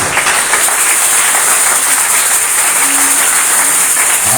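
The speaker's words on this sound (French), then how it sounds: "Acclame donc le Seigneur Jésus" Church congregation applauding steadily throughout a worship service, a dense, sustained wash of clapping from a large crowd with no talk over it.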